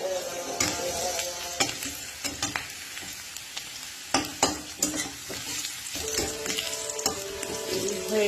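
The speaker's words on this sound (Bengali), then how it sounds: "পেঁয়াজটা একটু ভাজা ভাজা হয়ে যাক" Onion frying in a pan as the base for a Bengali greens dish, a constant sizzle under repeated sharp scrapes and knocks of a stirring spoon against the pan, close and fairly quiet.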